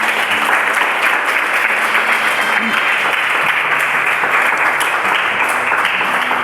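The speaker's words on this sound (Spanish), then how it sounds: "Denle un fuerte aplauso al Señor." A church congregation applauding loudly, a thick, sustained wall of clapping from many hands that fills the space evenly from start to finish, with faint voices mixed in.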